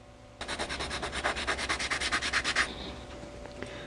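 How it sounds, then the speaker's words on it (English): A Dremel rotary tool shapes a wooden crankbait fishing lure, giving a rapid, rhythmic series of close, gritty sanding pulses that stop abruptly, leaving a faint hum. "And then I'll shape it with the Dremel."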